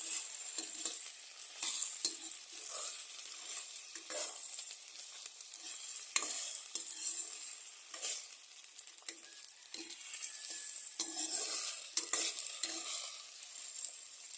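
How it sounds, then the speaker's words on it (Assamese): Potatoes fry and sizzle in a pan while being stirred, a steady close crackle with repeated scraping strokes throughout, no voices. "ভাজি আছোঁ।"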